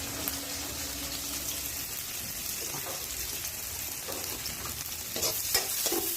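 Onion frying until brown in a spoonful of oil on an electric chulha, a soft steady sizzle with occasional scrapes and stirring clatter that grow a little louder toward the end.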